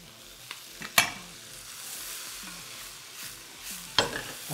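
Mushrooms dropped into a hot pan sizzle steadily up close, with a couple of sharp tossing clatters against the pan and a soft hiss running throughout, no voices.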